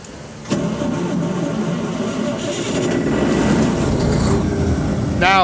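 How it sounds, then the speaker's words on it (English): Air compressor starting up: a sharp kick at the start, then a loud, steady mechanical engine-like drone that holds and swells slightly, close by. "So we're gonna start the compressor."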